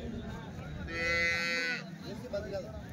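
A Jersey cow moos once, loud and close, a sustained low call lasting about a second at a busy rural cattle market, with crowd noise around it.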